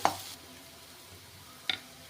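Small prawns sautéing in oil in a pan give a short burst of sizzling and stirring at the start, then a quieter stretch, followed by a brief scrape of the spoon near the end.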